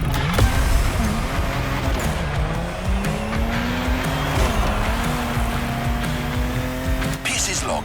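Peugeot 3008 DKR maxi buggy racing in The Crew Motorfest: a loud engine holds a high, rising and shifting drone with tire noise, close and continuous under a voice talking throughout.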